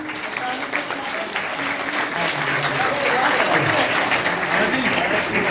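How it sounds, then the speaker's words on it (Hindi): Loud, sustained applause from a crowd at a Tiranga Shaurya Yatra and havan ceremony in New Delhi, a dense, steady wash of clapping lasting throughout with no gaps. "जोरदार ताली बजा दो"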